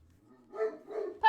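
Dog in the video game Trails in the Sky letting out short barks and yips, two or three quick bursts, the last one sharper and louder, clear against quiet game background.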